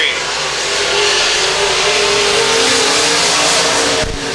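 USRA B-Mod race cars racing at I-35 Speedway roar steadily through the turns, a loud continuous engine drone with shifting pitch as they run close, with a commentator calling the race over the noise.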